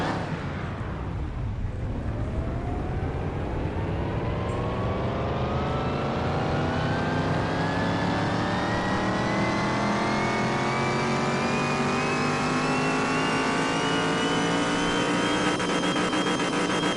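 A Salem 1500 V8 engine on a dyno in Car Mechanic Simulator drops briefly, then revs up in one long sustained climb to a high, loud whine, steady and close with no talk.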